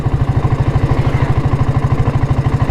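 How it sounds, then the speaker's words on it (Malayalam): A Royal Enfield Bullet motorcycle engine and exhaust thump while riding, a loud, close, steady low-pitched rhythmic beat of evenly spaced pulses throughout, with no talking. "അതേമാതിരി എക്സോസ്റ്റ് നോട്ടും കുറച്ചൊന്ന് വ്യത്യാസം വരും കേട്ടോ."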